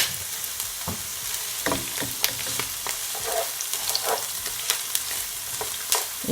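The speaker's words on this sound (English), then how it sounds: "I'm gonna add all my herbs, my remaining herbs that leave" Herbs frying in olive oil in a pot over low heat, a constant crackling sizzle broken by irregular stirring scrapes and taps, close and without talk.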